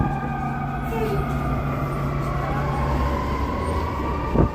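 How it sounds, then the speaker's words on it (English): Fire engines pass along a busy Chicago street with wailing sirens that rise and fall over heavy engine rumble and traffic noise, loud and close, ending in a sharp horn blast. "There goes the fire engines."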